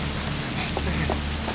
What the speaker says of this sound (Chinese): 突然间下雨了，我怕你淋坏了，就来找你。